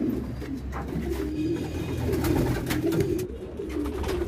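Pigeons coo in low, throaty, repeated murmurs close by, layered over a steady background hum.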